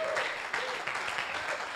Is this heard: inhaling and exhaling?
no